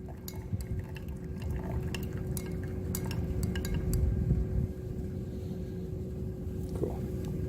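Quiet stirring of a precipitate solution in a laboratory beaker for gravimetric analysis, with a steady liquid swirl and scattered small glassy clinks and taps throughout, no voices.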